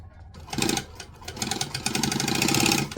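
A sewing machine stitches fabric at speed for a handmade H2O To Go tutorial, its fast rhythmic whirring and clatter close and loud after a brief starting burst.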